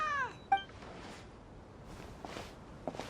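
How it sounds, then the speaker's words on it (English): A cat in Genshin Impact gives a short, clear meow at the start, a second brief chirp just after, then soft game ambience with light footsteps-like taps, fairly close and without talk. "Even a passing cat can't help but stop in its tracks and look up in anticipation"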